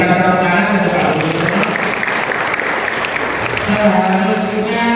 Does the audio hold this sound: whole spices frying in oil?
no